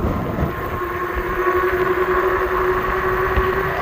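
A 2024 G-Force RS ST electric bike motor whines steadily at top speed on throttle alone, a sustained high-pitched hum over rushing wind and road rumble.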